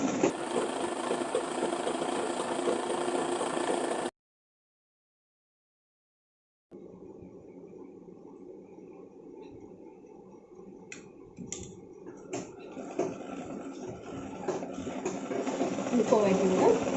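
A sewing machine stitches folded chudi pant fabric in short bursts of mechanical whirring and ticking. Quiet gaps separate the runs, and the machine grows louder toward the end.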